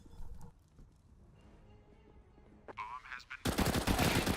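Automatic fire from a UMP submachine gun in Counter-Strike on the Overpass map, a dense loud burst at the end after quieter clatter and game sounds.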